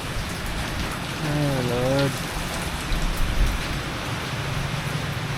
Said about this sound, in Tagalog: Ulan lang yan.